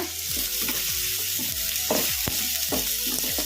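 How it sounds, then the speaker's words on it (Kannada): Chopped onion frying with cumin seeds in a pan for green peas chaat: a constant close sizzle broken by repeated scraping strokes as the mixture is stirred, about one stroke every half second, with no talking. "ಉಳ್ಳಾಗಡ್ಡಿ ಏನು ಜಾಸ್ತಿ ಫ್ರೈ ಆಗೋದೇನು ಬೇಡ ಒಂದೆರಡು ನಿಮಿಷ ಅಷ್ಟೇ ಫ್ರೈ ಮಾಡ್ಕೊಂಬಿಡೋಣ"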